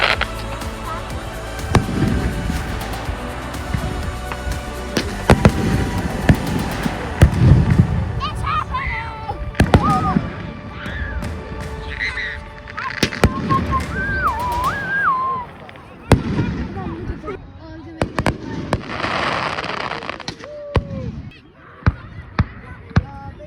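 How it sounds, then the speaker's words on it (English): Fireworks pop and boom repeatedly over a long stretch, some sharp and close, others duller, while people talk throughout. "some fireworks."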